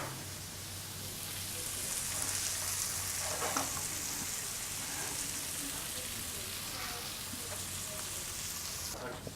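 Mozzarella cheese melts in a hot pan with a steady, even sizzle and faint scattered pops, fairly quiet and close, with no talking heard.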